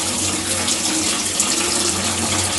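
Drumstick leaves rinsed under a running tap, a loud steady gush of faucet water close by, with no talk.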